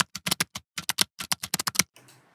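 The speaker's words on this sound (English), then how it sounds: "just press Windows and M keys at a time" Keys on a computer keyboard are pressed in quick succession, a close, crisp run of about fifteen clacks at an uneven rhythm that ends in faint room noise.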